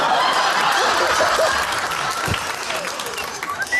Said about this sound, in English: Don't clap him, don't clap him, don't clap him.